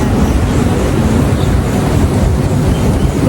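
Sea waves and coastal wind beside a large wooden ship at a marine museum in Kuwait, a loud, constant rushing wash with no voices.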